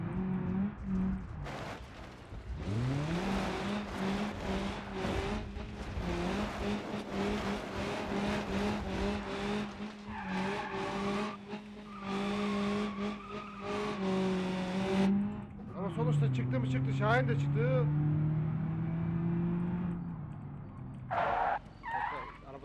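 Engine of a Tofaş Şahin or Toros car in the BeamNG.drive driving game, revving and holding steady pitch with gear changes and tire noise, loud and continuous throughout with a brief drop near the end.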